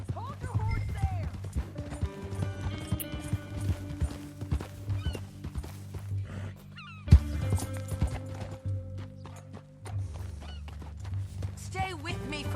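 Horse hooves clip-clop steadily in Red Dead Redemption 2, a rhythmic trot beneath in-game character dialogue and a low musical score, with a brief sharp knock midway.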